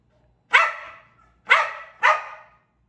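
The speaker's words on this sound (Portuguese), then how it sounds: "Que latido estridente, Theo." A dog, a Blue Heeler, gives three shrill, sharp barks in close succession, loud and near, with short silences between them and no talk.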